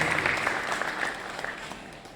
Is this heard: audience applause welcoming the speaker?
yes